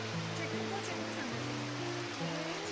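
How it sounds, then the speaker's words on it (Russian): A waterfall in Gabala, Azerbaijan rushes as a steady broadband roar close by, with low tonal hums and shifting murmurs underneath. "Изящный водопад."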